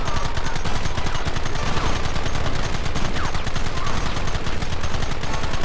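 Dense, rapid gunfire rattles without pause in the video game Red Dead Redemption, loud and close, a continuous volley of overlapping shots.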